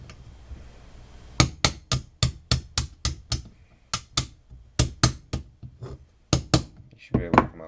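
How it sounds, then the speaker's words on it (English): Small brass hammer striking a brass punch to drive a pin out of a firearm safety sear assembly, about twenty sharp metallic taps in quick bursts, close and loud, with a voice briefly heard at the end. "just drive that pin out, get a brass punch and a little brass hammer"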